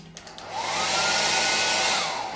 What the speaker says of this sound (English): That's a good hairdryer.